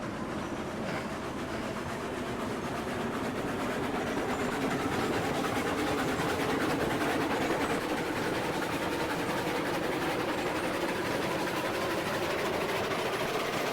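Steam locomotive rolling along the rails in the Railroads Online train game, a steady continuous rumble with faint rhythmic rail clatter, moderately loud and unbroken throughout with no talk.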